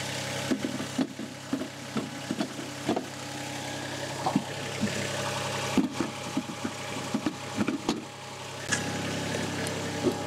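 A Toro ride-on lawn mower engine runs steadily at a moderate distance, its constant hum broken by repeated short knocks and clunks as the machine moves over the ground.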